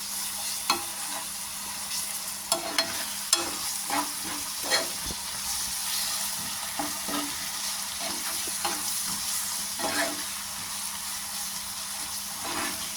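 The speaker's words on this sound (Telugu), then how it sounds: "బాగా వేగిద్దామండి పచ్చివాసన పోయేంత వరకు." Ginger garlic paste fries in a pan for a masala brinjal curry, with a steady sizzle throughout and scattered stirring scrapes and clinks of a spoon.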